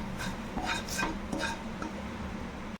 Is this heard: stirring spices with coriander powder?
yes